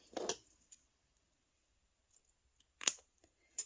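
Scissors snip through fabric for a removable, washable picnic basket liner: a crisp cut near the start, a brief pause, then another sharp close snip, each short and distinct against near silence.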